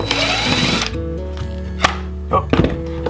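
A power drill backs screws out of a panel beside an RV travel trailer's stove: a sustained whirring burst, then silence broken by short sharp clicks and brief drill spurts, close by.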